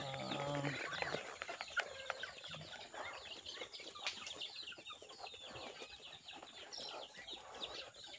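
Chickens and ducks cluck and chatter continuously at a moderate distance, a busy rural farmyard flock with occasional louder calls and no talking.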